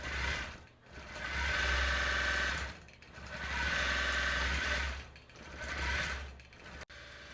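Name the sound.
Gammill longarm quilting machine stitching a quilt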